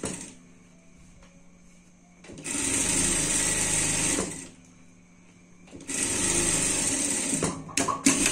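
A sewing machine stitching a safety seam on a shirt runs in two loud, steady bursts of rapid whirring, separated by quieter pauses, with some faint background noise.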